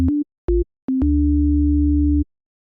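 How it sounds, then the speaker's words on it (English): Pure sine tone from the Serum synthesizer, sounding in two short blips, a third brief note, then one sustained held tone lasting over a second before cutting off cleanly, clean and loud with no other sound. "I have this sine wave right here."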